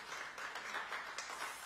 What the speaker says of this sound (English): Another round of applause for our keynote.